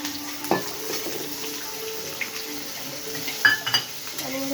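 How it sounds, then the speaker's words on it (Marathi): Onion dropped into a hot pan for masala Maggi, with a brief soft sizzle and a few utensil clinks against the pan over a quiet kitchen background. "आता आपण याच्यामध्ये टाकूया ऑनियन"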